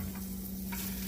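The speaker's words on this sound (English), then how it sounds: "really starting to smoke up that butter" Butter sizzling and smoking in a pan over low heat, a faint steady sizzle with a low hum beneath and a brief stir near the end.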